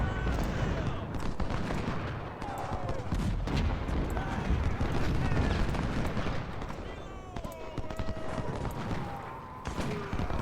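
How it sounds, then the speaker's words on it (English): Artillery fire in the Civil War strategy game Ultimate General: Civil War, set at Antietam: a dense continuous roar of cannon booms and musket volleys, thick and rumbling, with a voice talking over the battle. "We've got some artillery there messing with us."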